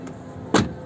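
An Isuzu Panther LS Turbo from 2012 has its door shut once with a single firm, solid thump, close and loud, over a faint background hum.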